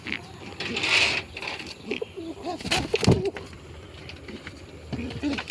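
An aggressive pet pigeon, held in one hand, gives a few low coos close by amid soft rustling and background noise.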